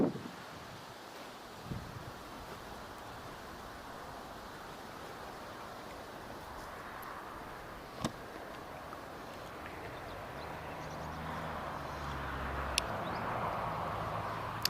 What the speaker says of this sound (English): That wind has died down even from when we start live streaming